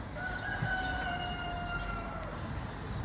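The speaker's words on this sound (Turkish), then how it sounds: "Şurada tavuğu kovalıyor" A rooster crows in a long drawn-out call from a little distance at the Dolmabahçe Palace poultry grounds, heard over a steady outdoor hum.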